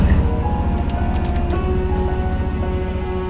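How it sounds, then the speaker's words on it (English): Steady tropical rain patters down on a surface in Indonesia, a dense continuous hiss with occasional louder drops, no voices. "It just started raining randomly, like out of nowhere."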